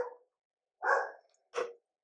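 A dog barks three times in quick succession indoors, short sharp woofs spaced with brief pauses, fairly close and with no talk over them.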